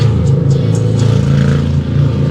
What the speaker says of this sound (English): There's a lot of dudes on their motorcycles out today. They're just super loud.